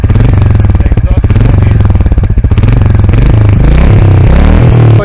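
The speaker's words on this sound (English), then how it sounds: "The best part about any RE bike is the thump what you get from the exhaust." Loud, close exhaust thump from a Royal Enfield Goan Classic 350 motorcycle, a rapid pulsing single-cylinder beat with a deep low-end rumble that swells as the engine revs.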